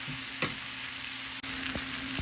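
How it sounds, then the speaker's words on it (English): Steady, loud sizzling of chicken and sausage frying in a hot cast iron pan, with a few light clinks and scrapes of stirring. "All right, these are frying up real nice."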